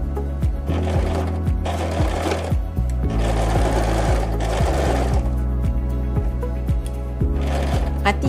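A sewing machine stitches a baju kurung pocket opening in short bursts, close and steady mechanical chatter with brief pauses and restarts, someone talking quietly over it.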